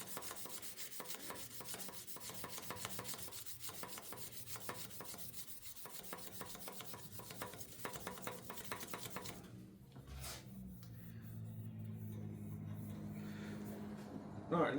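Sandpaper rubbing against a spinning wooden pen blank on a lathe, a steady, close, continuous scraping hiss over motor hum, easing midway and followed by lower lathe whirring.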